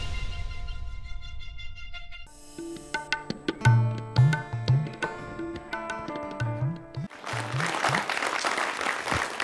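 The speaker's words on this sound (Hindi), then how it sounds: "आप किसान सम्मान निधि वितरण की रिपोर्ट के बाद प्रफुल्लित किसानों की इस तालियों की गड़गड़ाहट को सुन रहे हैं" Farmers applaud at a Kisan Samman Nidhi certificate distribution event, a crowd of clapping that builds from scattered claps into dense, sustained applause, heard under ringing musical tones and brief sounds in the middle before the clapping swells again.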